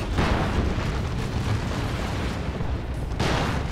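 In a Dawn of War 2 battle, a turret is destroyed with a loud, continuous, rumbling explosion. The low roar holds for several seconds with crackling bursts, and a fresh surge comes near the end.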